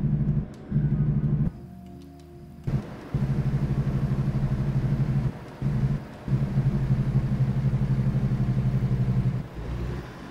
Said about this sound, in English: Little bit of engine brake.